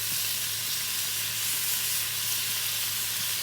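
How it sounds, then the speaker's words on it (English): Surf and turf sizzles in a hot pan during basting, a dense continuous crackling hiss that stays steady and fairly loud with a faint low hum beneath it and no talking. "it's sizzling away"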